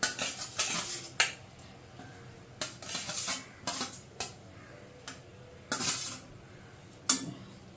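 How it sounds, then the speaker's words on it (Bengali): Fried pomfret pieces are placed one by one into a simmering coconut curry, giving a series of separate close clinks and knocks of a spatula against the pan over a low background, with no talking. "এই মাছগুলো একটা একটা করে ঝোলের মধ্যে আমি দিয়ে দেবো।"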